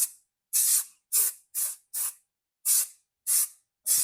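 Spray adhesive being applied for a Volkswagen headliner install: eight short, sharp hissing bursts from a can, close and loud, separated by brief silent gaps.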